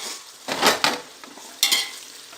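Onions and green chillies sauté in a pan for chicken biryani, with a soft sizzle under a few scraping stirs of a spoon at an uneven rhythm, close by.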